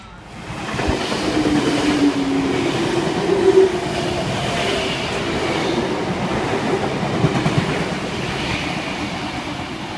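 A Sydney Trains V set rumbles through the Seven Hills station platform at afternoon peak, a loud sustained roar with rolling wheel noise and faint brake squeal as the carriages pass close by.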